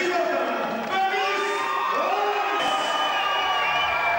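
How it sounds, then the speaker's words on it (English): A crowd cheers and whoops for a Kent fighter entering the ring at a kickboxing bout, loud and sustained, with shouts rising over the noise. "Great reception from the crowd"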